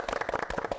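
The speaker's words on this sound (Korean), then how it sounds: "다시 한번 박수 부탁드립니다" Studio audience on a Korean television health talk show bursts into a short, dense round of applause, many hands clapping together at close range with no voices.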